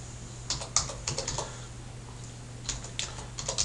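Computer keyboard keys clicking in two short bursts of typing, a pause between them, with a steady low hum underneath while an email address is entered for a supplier record.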